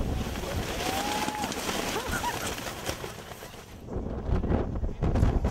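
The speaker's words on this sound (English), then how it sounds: "it's way too windy" Wind buffets the microphone in rumbling gusts in Iceland, with outdoor noise and talking underneath.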